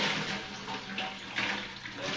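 Water running and splashing out of a loosening water filter housing into a bucket beneath it, a steady close rushing pour with slight surges.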